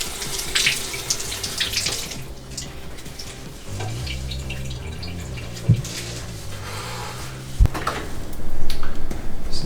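Tap water runs steadily into a sink to wet the mop pad of a Proscenic M7 Pro robot vacuum, with a few sharp knocks and splashes as the pad is handled under the stream.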